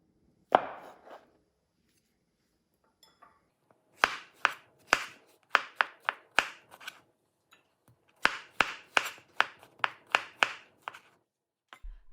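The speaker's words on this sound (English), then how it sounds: "It will seem like a lot as you're chopping it up actually" Mushrooms being chopped on a board for a creamy beef pasta, a burst of quick knife strokes followed by two longer runs of close, crisp, rhythmic chops with brief pauses between.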